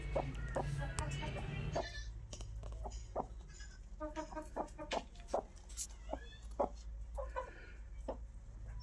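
A broody hen sitting on a clutch of eggs on a village farm gives scattered, moderately loud clucks over a steady low background hum.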